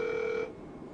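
Telephone ringback tone heard while placing a call, a single steady electronic ring lasting about half a second before cutting off to quiet background.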